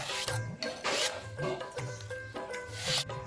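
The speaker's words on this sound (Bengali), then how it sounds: "বেটে নিব আদা" Ginger is ground on a traditional grinding stone in a home kitchen, making close, rhythmic rasping scrapes in about five regular strokes, each a gritty rub, with no talking.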